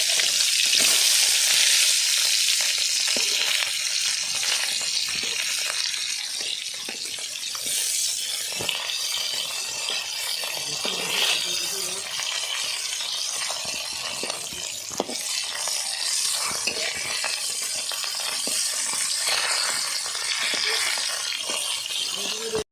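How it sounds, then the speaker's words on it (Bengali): Tengra fish fry in hot oil and get flipped, making a long, steady close-up sizzle broken by occasional spatters and light clinks from turning the pieces. "মাছগুলো আমার ভাজা হয়ে গেছে, উল্টে দিচ্ছি।"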